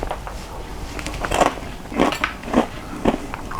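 Crisp bites and chewing on crunchy roast potatoes seasoned with thyme, several distinct crunches spaced about half a second apart, close to the mic with no talking.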